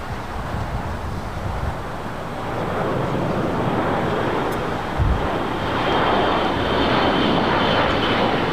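A Hawaiian Airlines Airbus A330 arriving from Honolulu, coming in from the south to land on runway 25 left at LAX: a steady, broad jet roar that swells gradually and grows louder toward the end, with no voices.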